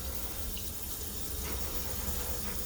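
Tap water runs steadily into a sink or tub for a dog's warm flea bath, a close, continuous rushing and splashing.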